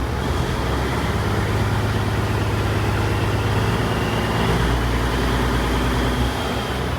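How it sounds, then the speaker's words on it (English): A car engine, just fitted with a working alternator, runs loud and close in a steady low rumble, holding at raised revs with slight shifts in pitch toward the end. "You just gotta rev the engine up."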